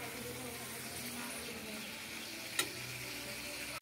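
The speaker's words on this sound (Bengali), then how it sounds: "এবার এটা পেঁয়াজের সাথে ভালো মতো ভেজে নিচ্ছি।" Chicken mince with onions fries steadily in a pan, a continuous close sizzle with one sharp utensil tap partway through.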